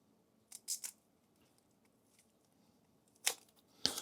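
A knife chops an onion into small dice on a cutting board, a few crisp, close cutting crunches in quick clusters separated by quiet pauses.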